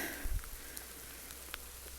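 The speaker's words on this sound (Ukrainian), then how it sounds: "У нас дощик." Light rain pattering softly and steadily, with a few brief louder drops standing out against a quiet, diffuse hiss.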